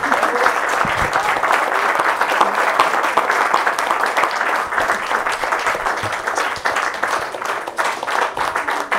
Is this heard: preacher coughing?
no